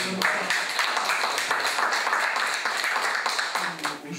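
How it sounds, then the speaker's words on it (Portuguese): A room of assembly members applauds after a unanimous election result, steady dense clapping from many people continuing throughout at a fairly loud, even level. "E aí, aplausos."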